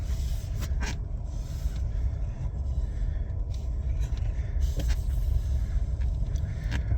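A Ford F150 Lightning AWD electric pickup rolls down a steep snowy hill, a steady low rumble of tires and road noise throughout with a few faint clicks and taps, no engine note.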